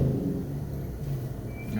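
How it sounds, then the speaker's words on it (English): Cars roll past a roadside picnic-table parking spot, a steady low rumble and whir from passing traffic with a slight swell near the end. "cars have come by me"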